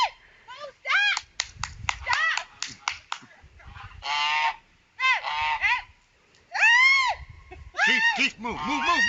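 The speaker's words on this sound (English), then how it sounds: "No, that's a Canada goose." A Canada goose honks loudly in repeated harsh bursts, close by and in irregular rhythm, with short gaps and some low rustling between calls.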